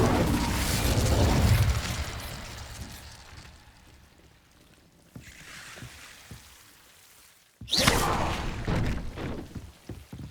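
An Incendio fire spell in Hogwarts Legacy bursts with a loud whooshing blast that fades, followed by quieter mechanical rumbles and a second sharp, fiery burst.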